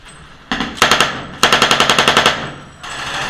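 An M240 machine gun fires two rapid bursts, the second longer with about a dozen sharp, evenly spaced reports, loud and close, followed by a brief lull before firing resumes.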